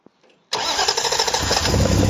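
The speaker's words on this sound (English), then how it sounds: "And in a second, we're just going to do a bit of a start-up." An Austin Healey Works replica with triple 45 Weber carburetors gives a brief click and a short crank, then fires at once into a loud, close, rough idle that swells slightly toward the end.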